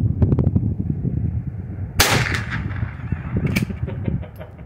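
A small Mosin Nagant style rifle with a threaded barrel fires two sharp, loud shots about a second and a half apart, each cracking over faint background rumble with no talking.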